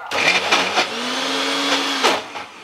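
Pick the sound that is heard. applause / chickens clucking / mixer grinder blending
mixer grinder blending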